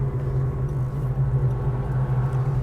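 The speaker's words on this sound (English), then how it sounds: "The responsiveness of this big block is impressive" A 1972 Chevrolet Chevelle SS with a 600 hp 496 cubic-inch big-block V8 and four-speed rumbles steadily at close range, a deep continuous low drone holding nearly level throughout with no talking.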